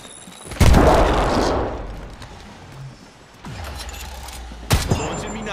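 Grenade explosions in Apex Legends: a heavy nearby boom with a long rumbling tail, then another blast and a sharp detonation later, all loud against quieter game ambience.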